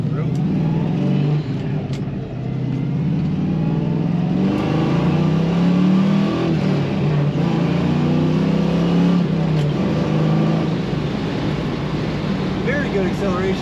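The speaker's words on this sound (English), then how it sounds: "Nice tough sounding Camaro actually." A 1978 Chevrolet Camaro Z28 engine revs up and accelerates on the road with a rough, throaty growl, rising and holding loud and close throughout.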